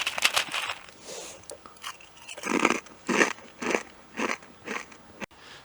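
Someone eats crunchy dry cereal without milk while wild camping, with loud close-up bites and a rhythmic run of crisp chewing crunches and brief pauses between them.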